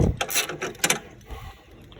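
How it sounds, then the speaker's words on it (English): Hand cranking on a Snapper riding mower to free its Briggs and Stratton engine, giving close, irregular ratcheting clicks and metallic knocks in short bursts that taper off toward the end. "keep on cranking here"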